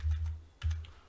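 A short burst of keyboard typing, soft clicking keystrokes over a low steady hum.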